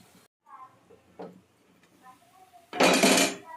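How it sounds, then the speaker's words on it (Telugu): A lid is set on a cooking pot of mushroom curry on low heat, a single loud metallic clatter near the end after softer kitchen clinks and a voice talking. "ఇప్పుడు సిమ్లో పెట్టి మనం మూత పెడతాం కాసేపు"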